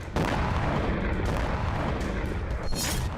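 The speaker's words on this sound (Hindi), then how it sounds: "मॉस्को में यूक्रेन ने धमाका किया तो सरकारी इमारत में भीषण आग लग गई।" An explosion during a Ukrainian attack in Moscow sounds as a dense, loud rumble of booming blasts over several seconds, with sharp cracks near the end.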